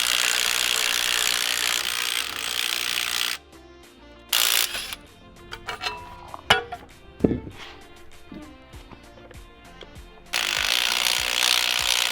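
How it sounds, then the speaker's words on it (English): A spring compressor tool is ratcheted down on a Ford Mustang GT coil spring during an Eibach lowering spring install, making rapid metallic clicking pawl sounds up close, set between stretches of louder background noise. "You just compress that spring down so you can take off that bolt at the end."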